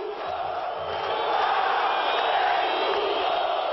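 A divided football crowd in a Brazilian stadium at a Vasco versus Bahia match, a broad, steady roar of many voices with protest chants and shouting, sustained and moderately loud throughout.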